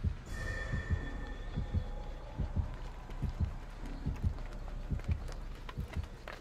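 A killer's heartbeat warning pulses in Dead by Daylight, a deep, regular double thump repeating steadily and fairly close under a faint high tone and game ambience.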